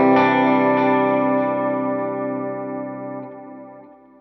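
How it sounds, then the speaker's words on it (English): A single electric guitar chord rings through a fast chorus effect on a Line 6 HX Stomp, wobbling close to vibrato as it sustains and slowly fades over about four seconds. "you can hear the speed of that chorus almost going into vibrato territory"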